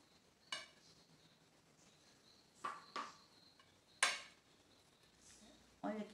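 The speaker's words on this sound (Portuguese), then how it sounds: "Vou passar um pouquinho de manteiga aqui neste cuscuz." A knife spreads butter over couscous at home: a handful of quiet, separate scrapes and clinks against the dish, spaced irregularly across a hushed kitchen.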